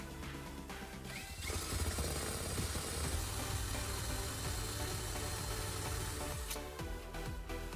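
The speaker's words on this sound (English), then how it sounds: "Use a drill bit to collect some clean sawdust from another piece of wood." A power drill with a bit bores into a dry wood scrap to collect clean sawdust, a continuous whirring motor hum with grinding texture that starts after a second and runs steadily before tapering at the end.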